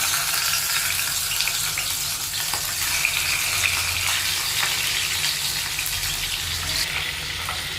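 Pieces of rohu fish belly, rubbed with salt and turmeric, frying in hot oil in a pan, giving a steady, loud, continuous sizzle with crackling throughout and no talk.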